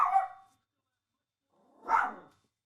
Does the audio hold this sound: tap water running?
no